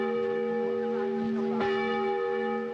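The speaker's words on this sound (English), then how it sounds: "Bells tolled in Berlin," A large church bell in Berlin tolls with a rich, sustained ringing hum, one fresh strike landing midway as the tone lingers and swells.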